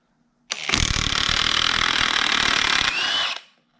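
A brand new Ryobi 18 volt brushless impact wrench on its third power setting hammers a bolt in one loud continuous burst of about three seconds, close by and alone, rattling hard before cutting off abruptly.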